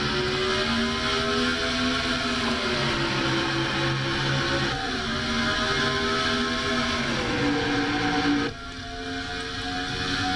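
Stock cars roaring off the green flag start at Dover in a racing video game, a dense continuous engine drone with layered shifting pitches that holds steady and loud, then dips slightly near the end.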